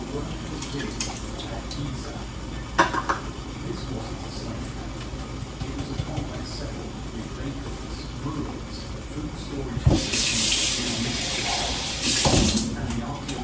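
Tap water runs into an emptied can of clams to rinse out the residue in a home kitchen, a bright rushing splash in the latter part of the clip over low background noise and faint talk.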